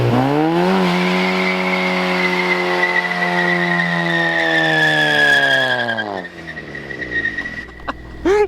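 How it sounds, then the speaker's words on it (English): A turbocharged Honda Civic EK does a burnout, its engine holding a loud high rev while the tires squeal steadily for several seconds before the revs drop and a few clunks follow. "I really want to do a burnout. You can do a burnout."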